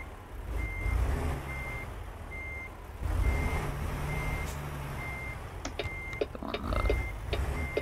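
A heavy hauler truck carrying a steamroller load in American Truck Simulator backs up, its reversing alarm beeping at an even pace over a low engine rumble.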